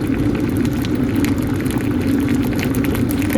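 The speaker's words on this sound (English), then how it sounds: "now I see boiling" Water coming to a boil in an electric kettle inside a campervan, a steady dense bubbling roar with a constant hiss, close and unbroken throughout, with no talking.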